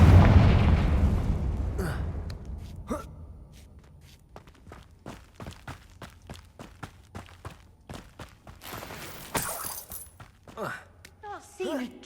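Confringo spell blast in Hogwarts Legacy: a heavy booming explosion opens loudly and decays over two seconds, followed by scattered footsteps, clicks and small game effects, with some speech in the mix.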